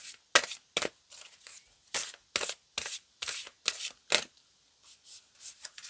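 Oracle and tarot cards are shuffled in quick repeated riffles, about a dozen crisp bursts in an uneven rhythm with short pauses between, close and fairly quiet with no talking.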